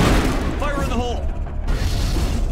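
A deep booming explosion in Mass Effect, set off by a warp power, erupts under a voice shouting over it, then a lower rumbling tail fades out.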